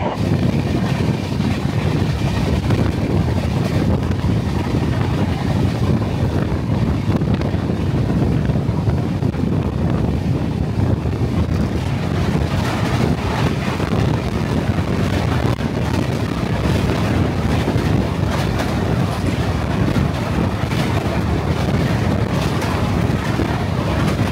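The Howrah–Digha Kandari Express runs at speed near Kolaghat station, a loud steady roar of wheels and rushing wind buffeting the microphone throughout.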